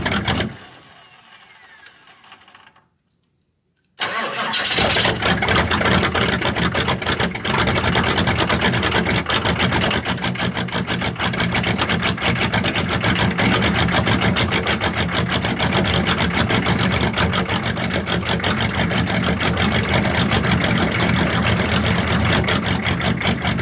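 Diesel-swapped Chevrolet Monte Carlo engine cranking weakly, then catching after a brief silence and settling into a loud, steady, rough idle with a busy clattering texture that runs on for a long stretch.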